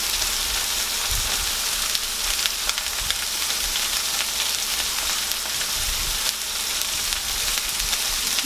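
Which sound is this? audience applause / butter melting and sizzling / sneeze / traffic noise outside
butter melting and sizzling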